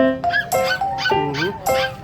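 Dogs bark and yip in a quick series of sharp, high calls, close by, with some whimpering mixed in.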